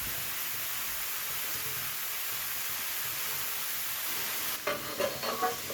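Bottle gourd with prawns cooks in a pan with a steady, soft sizzling hiss; a few close scraping stirs break in near the end.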